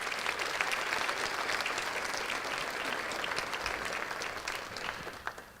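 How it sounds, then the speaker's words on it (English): An audience at a school district teacher-of-the-year ceremony applauds steadily for several seconds, a dense wash of clapping at moderate distance, tapering slightly near the end. "Let's give them a round of applause."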